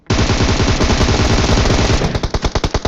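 Gunfire in a battle royale mobile game: a loud, close, unbroken automatic burst that gives way to separate rapid shots near the end.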